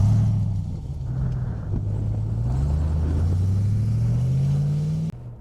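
A RAM 1500 TRX pickup drives off-road, its engine a loud, steady low rumble that rises gradually in pitch as it accelerates, then cuts off abruptly near the end, with no talking.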